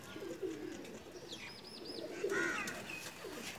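Pakistani pigeons in a fancier's loft give soft cooing and chirping calls amid faint background noise, a few short bursts quietly spread over the moment.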